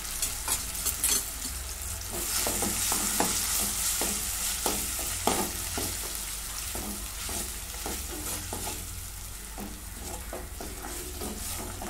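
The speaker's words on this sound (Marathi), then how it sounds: "हे परतून घेऊ 2 मिनिटं" Onion masala with ginger-garlic paste and a coconut-coriander paste sautéing in a pan, a steady sizzle broken by repeated scraping strokes of a spoon stirring, close and clear with no talking.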